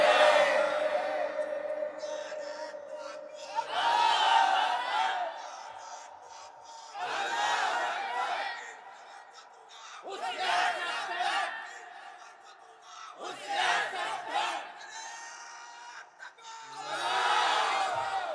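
A crowd at a Bangla Islamic waz sermon shouts back the takbir response in loud, repeated bursts, with a voice between the collective roars.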